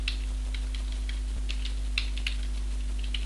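Brief bursts of computer keyboard typing while entering a value into a Microsoft Excel 2007 spreadsheet, light, close clicks in a short irregular run over a steady low electrical hum.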